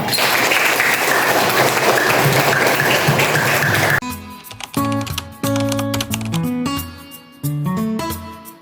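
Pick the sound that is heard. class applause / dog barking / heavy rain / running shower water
class applause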